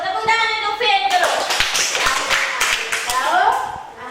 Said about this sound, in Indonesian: Bagus, tepuk tangan untuk Fit dulu.